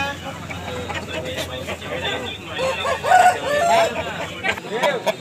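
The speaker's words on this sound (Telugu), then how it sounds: "పుంజు ఇదొక పుంజు" A rooster crows loudly and nearby at a busy village country-hen market, its drawn-out call rising over clucking fowl and people talking.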